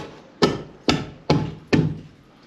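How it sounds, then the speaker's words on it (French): A hammer strikes wood four times in an even rhythm while new flooring and window framing are being fitted, each blow a sharp close knock with a short decay. "Et coup de marteau, comme ça il va tenir."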